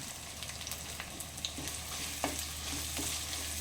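Chicken gravy with curry leaves being stirred in a pan: a constant close sizzle with light, irregular scraping and clinking of the spoon, no talk.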